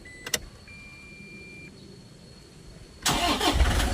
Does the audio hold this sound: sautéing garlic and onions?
no